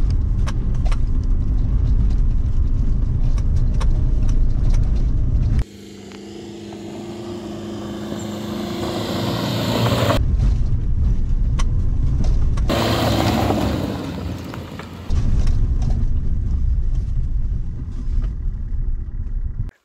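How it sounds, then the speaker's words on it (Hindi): A car engine labours up a steep, narrow mountain road in first gear, a loud continuous strain that swells and drops in level, with sharp broadband bursts of roaring effort midway and no talking. "सो अभी गाड़ी हम चढ़ाते हैं, फर्स्ट गियर में जाएगी बिकॉज एकदम स्टीप चढ़ाई है"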